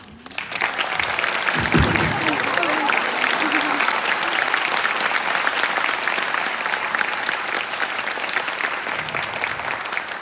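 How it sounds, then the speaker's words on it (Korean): Sustained, loud applause from a theater audience fills the hall at a curtain-call stage greeting after a Ben-Hur musical performance, steady for about ten seconds with brief voices near the start. "여기 계시는 관객 여러분들께 뜨거운 박수를 한번 네, 보내드리겠습니다"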